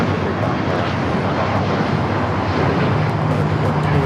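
United Airlines Boeing 737 MAX 8 on its takeoff roll at Los Angeles International Airport, a steady, dense jet engine roar with broadband rush and wind noise holding loud and even throughout.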